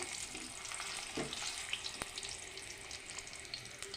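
A paste of ground green chilli, garlic, ginger and onion fries in a wok for mutton curry, giving a faint, steady sizzle and crackle with occasional stirring.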